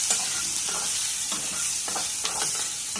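Potato and chili roast in a pan for jowar-flour upma, a steady sizzle with several short scraping stirs at irregular intervals and no talk.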